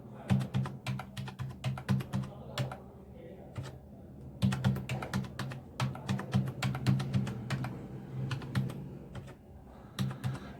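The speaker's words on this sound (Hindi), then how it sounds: "इस तरह से हम आपका टाइपिंग करते जा रहे हैं।" Rapid bursts of typing on a computer keyboard while entering data into an Excel spreadsheet, clicking keys in irregular clusters with brief pauses, close and clear with a low hum beneath.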